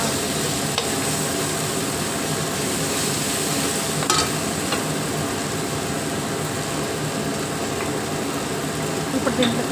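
Onions, tomatoes and green chilies frying in a pan while being mixed, giving a steady close sizzle with a few utensil scrapes and taps, continuous throughout.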